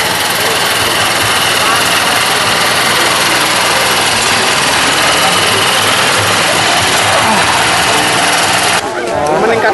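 A small rice transplanting machine's engine runs steadily in a half-dry paddy field, a loud, continuous buzzing drone that holds for nearly the whole stretch before cutting off abruptly near the end.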